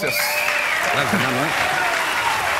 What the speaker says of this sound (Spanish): un aplauso para Espuma